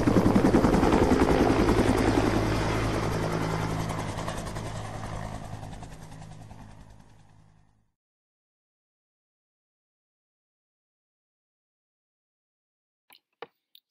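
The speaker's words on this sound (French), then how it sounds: "T'es déjà monté dans un hélicoptère, Lilian ?" Helicopter rotor and engine roar, loud and steady from the start, then fading away over about eight seconds into silence, with a couple of faint clicks near the end, used as an effect in a French audiobook reading.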